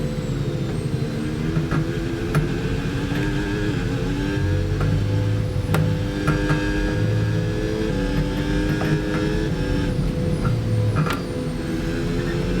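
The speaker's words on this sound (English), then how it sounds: "Another late braking move down into that corner." A car engine in an F1 racing video game, a steady loud drone with shifting pitch as the car brakes late into a corner, continuous throughout.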